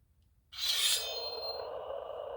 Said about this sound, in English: that sounded like a sword.